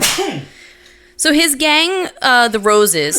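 A single sharp sneeze bursts out at the very start, close and loud, followed by a short pause and then someone talking.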